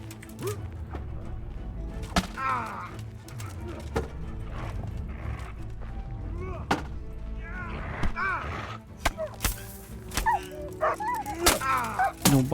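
Dog barking in the medieval role-playing game Kingdom Come: Deliverance, several sharp barks and yips scattered among horse clip-clops and game ambience, with someone talking over much of it.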